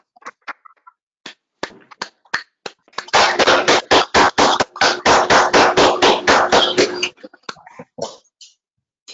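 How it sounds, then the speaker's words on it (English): Council members clap for the chief during an online city council meeting, a sparse few claps building into a steady, dense round of applause for about four seconds before trailing off into scattered single claps. "stand up and clap your hands for Chief"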